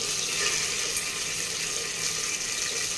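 Mustard seeds and urad dal splutter in hot oil, giving a close, steady crackling sizzle that runs unbroken through the moment with no voices.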